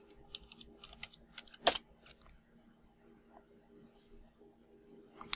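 Password being typed on a computer keyboard, a quick run of light, close key clicks in uneven bursts with one sharper tap, followed by quieter scattered presses in a hushed room.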